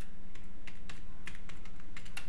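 Keys clack on a computer keyboard as jQuery code is typed, a steady run of close, crisp, quick taps with short gaps between bursts and no voice over them.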